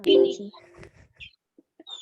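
A rooster gives a short burst of clucking, close and loud at first, then a few scattered softer clucks and chirps trailing off, with a brief spoken word in between.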